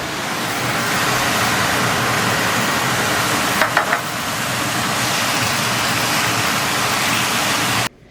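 Shrimp and garlic sizzle in hot frying oil, a loud, steady, dense hiss that runs nearly unbroken with a few brief crackles, then cuts off at the end.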